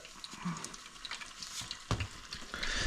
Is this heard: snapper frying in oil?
yes